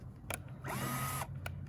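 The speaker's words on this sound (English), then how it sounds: "I'm using, I think this is a 1/16 size drill bit." A DeWalt power drill fitted with a 1/16-inch bit bores small holes in a worm bin. A steady high whine lasts about half a second, framed by sharp clicks just before and after.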